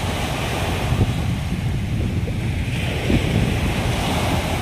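Surf washing steadily onto the shore at Manila Baywalk Dolomite Beach, with a continuous broadband wash of waves and some wind buffeting the microphone, loud and close throughout with no talking.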